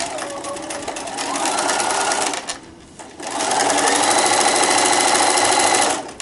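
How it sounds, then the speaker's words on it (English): Sewing machine stitching a pleated seam on a fabric wine gift bag, a rapid close mechanical whir that pauses briefly midway then resumes steadily, with faint talk underneath. "So we're sewing that pleat into our seam."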